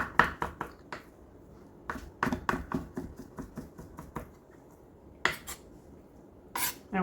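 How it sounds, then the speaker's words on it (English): Sharp, rapid knife chops on a cutting board as smoked salmon is minced finely with the blade, in irregular bursts of quick taps separated by short pauses, close and moderately loud with no talking. "just get it as fine as we can with the blade of the knife"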